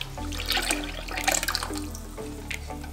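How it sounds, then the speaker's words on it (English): Lime juice and pineapple juice being poured into a bowl for an adobo marinade for tacos al pastor, a steady close liquid splashing over a low background hum, with no one speaking. "Start off by putting our lime juice, our pineapple juice,"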